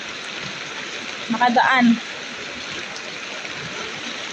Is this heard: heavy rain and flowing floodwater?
yes